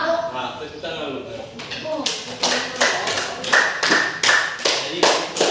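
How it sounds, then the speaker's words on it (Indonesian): Children in a primary school classroom clap their hands during an Islamic studies lesson. A teacher's voice comes first, then the claps build into a steady rhythmic pattern of close, sharp bursts. "Tepuk tangan lu."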